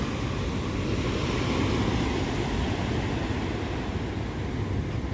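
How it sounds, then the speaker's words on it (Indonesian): Continuous roar of ocean surf rolling onto a beach at Padang, Indonesia, broad and steady with a slight swell in the middle, fairly large waves, no voices. "Kita lihat dulu nih ombak dari Pantai Padang"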